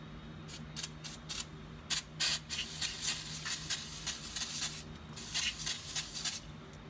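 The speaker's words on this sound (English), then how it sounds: "spray down this surface real good with some brake cleaner" Brake cleaner sprayed onto the brake rotor surface of a Ford F150 front brake: a run of short, sharp aerosol hisses in quick bursts, close and fairly loud over a quiet background.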